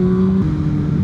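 Yamaha Fazer motorcycle engine running loud and close, a steady strong tone that steps down in pitch partway through as the revs drop.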